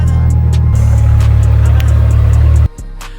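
A stance car's engine is fired up after a fuel cell install and runs loud and close with a rough, throbbing note, then cuts abruptly near the end to a lower murmur.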